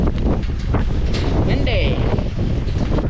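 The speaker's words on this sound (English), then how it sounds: "Windy." Strong wind buffets the microphone outdoors on a farm during harvest, a constant loud rumbling roar with gusty surges, and a voice speaks briefly through it.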